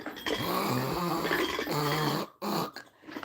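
A voice imitates loud snoring with long, rumbling, growly breaths, repeated in drawn-out pulses.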